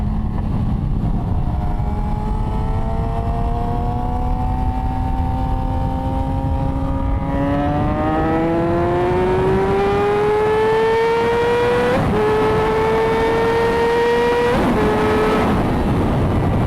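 A 2006 Yamaha R6 sport bike howls around a track with no talk, its engine note climbing steadily through the gears, then dipping into sharp shifts and revving back up, loud and continuous throughout.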